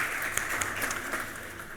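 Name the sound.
church congregation applause for the children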